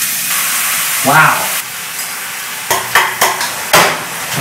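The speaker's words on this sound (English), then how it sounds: "Pour can of sauce into skillet and stir an entire pack of seasoning." Sauce from a can poured into a hot skillet and stirred with a whole pack of seasoning, giving a steady loud sizzle and hiss with bursts of scraping stirs, while a man exclaims briefly over it.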